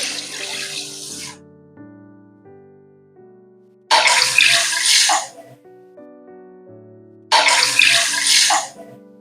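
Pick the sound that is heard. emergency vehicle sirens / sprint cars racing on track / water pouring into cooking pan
water pouring into cooking pan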